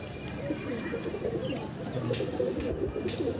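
A tournament-flown pigeon coos in a loft with soft, repeated low throaty calls, fairly close and moderately quiet, over faint background noise.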